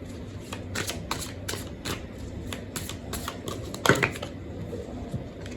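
Tarot cards shuffled by hand during a love reading, a rapid series of crisp riffling bursts close by, with a sharper snap near the end and no talk.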